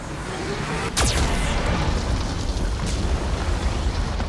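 Geth cannon blasts in the Mass Effect 2 video game: a sharp explosive crack followed by a long rumbling boom and roaring debris, loud and sustained, with a fainter burst later.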